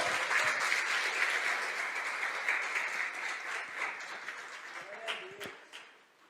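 A church congregation applauds the Lord during a Portuguese-language sermon: a dense, steady wash of clapping that carries for several seconds and then thins and fades toward the end.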